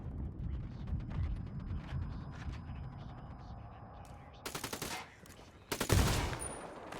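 Heavy bursts of automatic gunfire from an assault on a supply depot in the video game Ghost Recon Wildlands, crashing loud in two dense volleys after a stretch of quieter ambient scuffle and low rumble.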